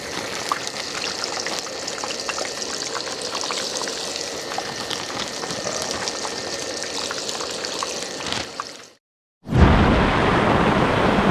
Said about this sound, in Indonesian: Gila, hujannya deras banget nih.